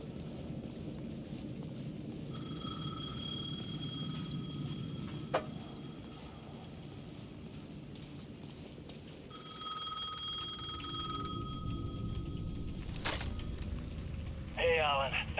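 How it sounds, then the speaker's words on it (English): A payphone ringing at the edge of a rainy plaza in the game Alan Wake II, with two long electronic ring tones separated by a pause over steady rain, and occasional sharp thuds. "The payphone at the edge of the plaza was ringing again."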